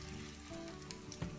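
Egg-dipped bread rolls fry in oil over medium heat, a soft, even sizzle with faint crackles, close by and without talk.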